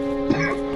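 A single short cough bursts out once over a steady humming background, brief and fairly close.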